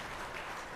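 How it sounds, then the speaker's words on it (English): Brief burst of audience applause for the organisers at a medical conference, a dense steady wash of clapping filling the whole moment at moderate level. "A big round of applause to them."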